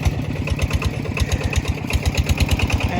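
A small tractor engine labours up a hill with a rapid, steady thumping chug, loud and close throughout, with no talking.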